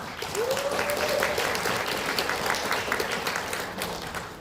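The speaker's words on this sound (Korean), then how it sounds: "안산시민 햇빛발전 협동조합의 이창수 이사장님을 큰 박수로 모시겠습니다" An indoor audience at a lawmaker's report meeting gives a sustained round of applause to welcome a speaker to the stage. The dense clapping holds steady for several seconds.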